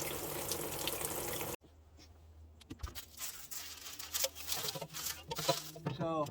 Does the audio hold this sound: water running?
yes